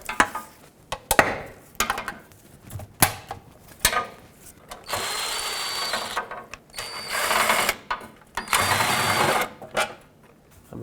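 Bolts come off a 2008-2010 Ford F-250 transmission oil pan with a power tool, heard as repeated short whirring and ratcheting bursts between clicks and clanks of handling, up close with no talking.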